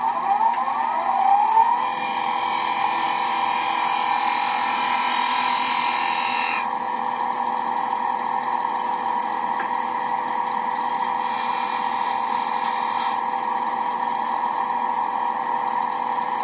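A wood lathe takes a cutting pass on the lid spigot of a mahogany box, giving a steady, close high whine and hum that sounds alone, with the tone shifting partway through.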